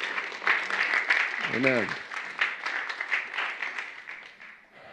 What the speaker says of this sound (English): Just give him a hand in Jesus' name.